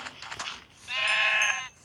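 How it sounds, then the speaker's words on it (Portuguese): Sheep bleating in the Minecraft video game: a single sustained, harmonic bleat, loud and close, rising out of a short stretch of quieter sound and stopping abruptly. "Deixa eu mostrar a ovelha."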